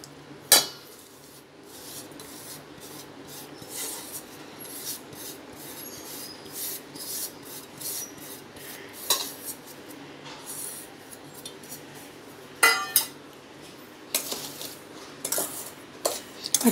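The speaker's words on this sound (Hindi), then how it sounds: "अच्छा से मिक्स करने का इसको पूरा" A spoon works through powder and sugar for protein laddu in a bowl, giving soft rubbing and scraping with scattered sharp metal clinks against the bowl, louder and busier toward the end.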